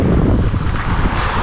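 Loud, buffeting wind roars against the microphone in a low, rumbling gust throughout, with no voices, at Henningsvær, Norway.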